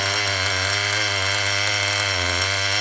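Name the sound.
engine idling after months on the shelf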